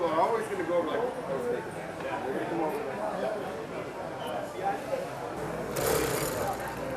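A vintage 1940s sewing machine stitches fur, its rapid mechanical chatter running steadily at close range under continuous talking.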